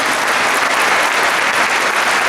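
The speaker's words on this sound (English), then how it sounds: "can I applaud all of you?" An audience applauds steadily at a tire factory inauguration ceremony, a dense, continuous clapping that stays loud and even throughout with no talk over it.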